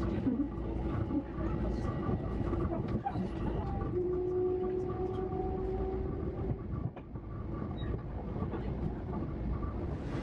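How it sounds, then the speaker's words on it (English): A Long Island Railroad train rolls along steadily with a constant rumble and faint wheel clatter, heard from on board for the full stretch. "And these are just clips from the Long Island Railroad."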